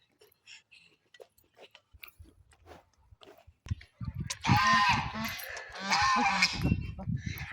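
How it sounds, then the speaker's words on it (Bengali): Scattered soft thumps, then a noisy chorus of ducks quacking close by at a river, loud and overlapping, continuing in bursts to the end. "হাঁস"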